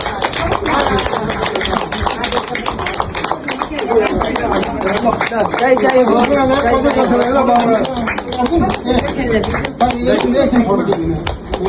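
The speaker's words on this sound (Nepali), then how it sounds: "ताली ताली ताली ताली" Clapping at an 84th birthday celebration for a grandfather, a steady run of quick handclaps from a small group close by, with people talking and chattering over it throughout.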